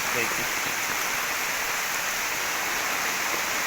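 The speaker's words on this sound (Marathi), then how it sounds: "तसा मान्सूनचा पाऊस पडत आहे" Monsoon rain falls in Kerala, a dense, steady hiss of rain and running water that fills the whole clip at an even, fairly loud level.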